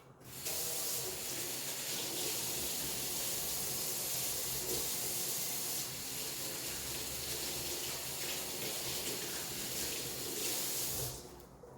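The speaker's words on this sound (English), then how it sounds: "I keep having to wash my hands" Tap water runs steadily and fairly loudly into a sink as hands are washed in a home kitchen, a continuous broadband splash holding for about eleven seconds before cutting off abruptly.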